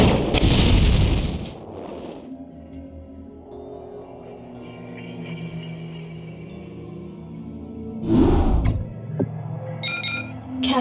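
Battle in StarCraft: Brood War with a loud burst at the start, then a long stretch of quieter droning hum, followed by another heavy blast near the end and a few bright electronic tones.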